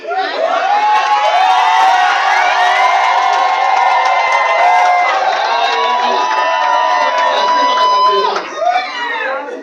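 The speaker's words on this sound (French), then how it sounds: "Lève-toi debout et pousse des cris de joie." Loud, continuous shouting of joy from a church congregation at a thanksgiving service, many voices cheering and whooping together in a dense, full roar that dips briefly near the end.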